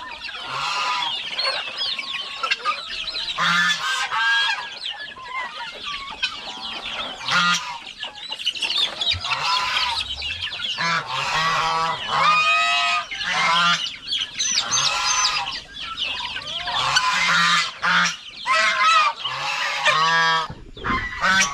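Loud, busy poultry chorus: gobbling turkeys and clucking chickens calling over one another continuously, close by, with no talking.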